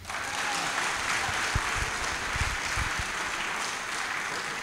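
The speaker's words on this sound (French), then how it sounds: "Vous allez applaudir ça d'abord." Steady applause from a crowd at a Côte d'Ivoire political press conference, continuous dense clapping that stays even throughout, with a few low thumps beneath it.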